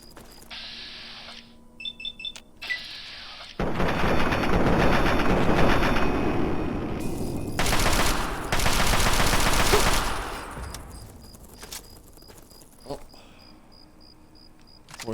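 Gunfire in the video game Fallout 3: a short burst of dense, loud, rapid shots with mechanical clicks and game effects around it, close and harsh, followed by quieter ambient game sounds.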